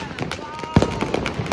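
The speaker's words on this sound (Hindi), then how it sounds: "गाइस अब पटाखे फोड़ेंगे, ये है हमारे पटाखे थोड़े से" Diwali firecrackers bursting nearby in a series of sharp pops and crackles, two louder bangs standing out, with voices talking over them.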